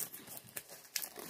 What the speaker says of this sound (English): I'm gonna take it, I'm gonna unwrap it here